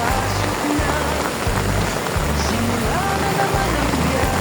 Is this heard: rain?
yes